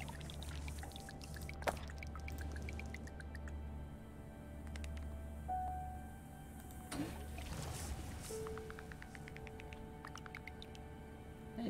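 Water flows from pumps in the Terra Nil game, a soft steady pour and trickle beneath quiet ambient tones and occasional chimes and clicks, fairly faint throughout.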